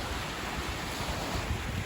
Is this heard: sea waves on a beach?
yes